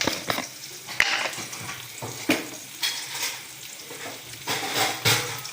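Food sautés with salt in a pan, making a quiet, steady frying sizzle that is punctuated by sharp spoon clacks against the metal and irregular scraping stirs close up. No one speaks.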